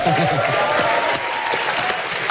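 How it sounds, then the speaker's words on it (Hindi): A TV comedy show studio audience claps steadily in a dense wash of applause, with a voice speaking briefly over it at the start. "तालियां हो जाए जरा"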